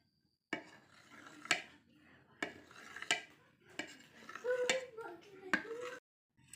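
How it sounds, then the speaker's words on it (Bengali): Set coffee jelly being cut into small pieces, a knife or spoon knocking against a bowl or dish in several sharp taps and scrapes, with someone talking in between. "জেলিটা কেটে নেব, এইভাবে পিস পিস করে কেটে নিতে হবে।"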